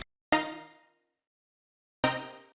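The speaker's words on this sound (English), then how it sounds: "When I copy the chords into this synth it sounds like this." Two separate bright future bass synth chords, each struck sharply and ringing out with a slow fade, the second cut off sooner; otherwise silent.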